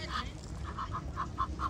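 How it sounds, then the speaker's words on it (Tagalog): Waterfowl on a pond in Hyde Park, London, call out in a short run of nasal honks and quacks, about half a dozen evenly spaced calls at moderate distance over low background rumble. "Kung gusto mo ma-relax, edi panoodin ang mga swan, mga kalapati."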